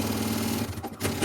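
Sewing machine stitching a seam on a fabric toiletry bag, a continuous rapid mechanical chatter close up, slowing briefly near the end before picking back up.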